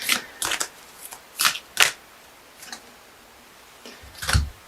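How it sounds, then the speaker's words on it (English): Wild Kuan Yin oracle cards shuffled close by in a series of short, crisp riffling bursts with brief pauses between them. "I'm going to quickly pull a Wild Kuan Yin oracle card for my dear Libras"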